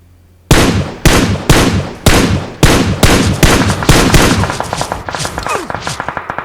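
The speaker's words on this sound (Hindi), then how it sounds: "इस बंदे को तो भाई मैं कुछ शॉट देता हूँ, मतलब एक दो गोली तो मारता हूँ।" Groza rifle fire in a battle royale video game: about ten loud, spaced single shots give way to a faster run of lighter, rapid shots, all close and without any talk.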